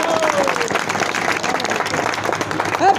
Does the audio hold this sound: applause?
yes